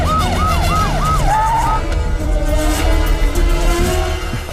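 An ambulance siren wails loudly in a rising and falling cycle, repeated several times, then fades into steady traffic-like background rumble.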